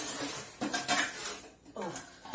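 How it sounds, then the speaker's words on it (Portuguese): A large 7-liter metal cooking pot is handled in a home kitchen, with loud clanks and scraping metallic knocks in several bursts, close to the microphone and without speech. "vou pegar uma panela de 7 litros"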